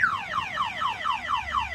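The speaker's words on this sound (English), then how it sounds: "So yeah, nice alarms, the Clifford." A Clifford van alarm on a Relay, Ducato or Boxer van sounds its siren, a loud, steady run of falling electronic whoops repeating about four times a second, close and with no other sound.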